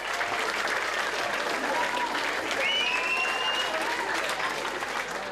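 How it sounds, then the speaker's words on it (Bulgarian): Sustained, thunderous applause and crowd cheering at a welcome ceremony for Rio Olympic bronze medalist wrestler Elitsa Yankova in Varna, loud and continuous throughout, with faint voices mixed into the crowd. "Бронзовата медалистка от олимпийските игри в Рио-де-Жанейро Елица Янкова бе посрещната с бурни овации"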